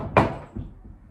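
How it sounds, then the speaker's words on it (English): A knock on a door: one sharp, close rap, followed by a couple of much softer thuds in an otherwise quiet room. "Suddenly, I heard a knock."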